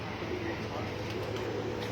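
Pigeons cooing on a rooftop, soft low murmuring calls under a steady hum, with a voice faintly present in the background.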